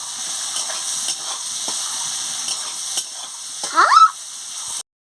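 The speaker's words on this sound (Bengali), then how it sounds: "সামান্য একটু নুন দিয়ে পেঁয়াজটাকে ভালো করে ভেজে নিচ্ছি।" Onions sprinkled with a little salt fry in hot oil for a rohu fish curry, a soft continuous sizzle with light stirring, then a brief louder scrape of the spatula near the end before the sound cuts off.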